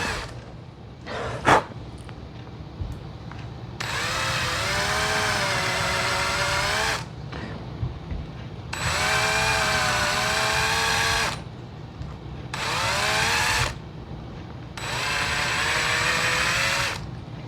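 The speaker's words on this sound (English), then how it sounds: "I'm just going to drill down to my tape." A power drill whines in four long bursts as it drills into the body of a 1994 Fender Telecaster guitar, pitch sagging under load and then rising, with quiet pauses and a couple of sharp clicks between runs.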